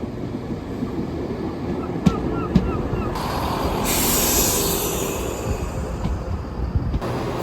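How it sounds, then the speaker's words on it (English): A GTR Class 171 diesel train heard close by at a platform, with a steady rumbling drone, a couple of sharp metallic clanks and a broadband hiss of air release, alongside wind noise. "So this is the Class 171, the first train that I will be reviewing, and the only diesel train in the GTR fleet."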